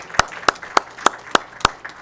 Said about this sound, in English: Let's give her a big warm round of applause.